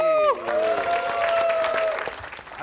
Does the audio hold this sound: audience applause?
yes